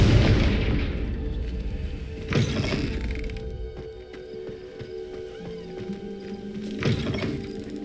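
Confringo fire spell explodes in Hogwarts Legacy: a loud boom right at the start that rumbles away, followed by two further crunching impact bursts over a low game background, with no voices.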